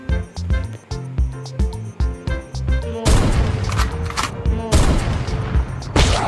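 Sniper rifle gunshots in a video game, a series of sharp shots with booming reports, loud and close, over game music, and denser gunfire toward the end.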